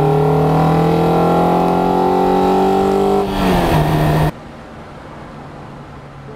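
Lotus Elise VVC engine revving hard while driving, a loud rising multi-harmonic sweep that climbs steadily for about three seconds, then breaks into a rough burst and drops abruptly to a quiet cabin rumble.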